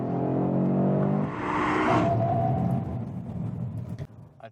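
An Audi RS 3 prototype drives through S-curves. The engine drones steadily, rises in a brief surge, then eases off and fades, heard from inside the car.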